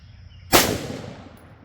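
A single sharp rifle shot fires IMI 77gr Razor Core ammunition, loud and close, with a short echoing decay after it.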